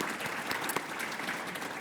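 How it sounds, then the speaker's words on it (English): Audience at a talk applauding the series sponsor, a steady, moderately soft patter of many hands clapping that lasts under two seconds with no pause. "maybe a round of applause and a thanks for them supporting this series."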